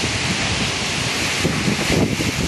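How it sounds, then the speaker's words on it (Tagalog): Strong typhoon wind and heavy rain make a dense, loud, steady roar of rushing air and pouring water, unbroken and with no voices. "Ngayon sinabayan na po ng malakas na ulan."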